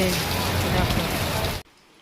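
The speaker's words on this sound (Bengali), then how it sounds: "দেখো কেমন বৃষ্টি নেমে গেল বলতে বলতে বিশাল জোর বৃষ্টি হচ্ছে" Heavy rain pours down in a dense, loud, continuous hiss that cuts off abruptly after about a second and a half, leaving near quiet.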